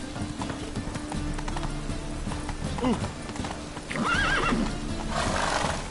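Roach, the horse in The Witcher 3, gallops with steady hoof clip-clops and lets out a couple of clear whinnies amid game background noise, with a voice speaking briefly.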